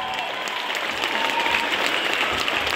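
Sustained concert audience applause, dense and steady, a crowd clapping continuously for the evening's protagonist with no pauses, moderately loud and enveloping.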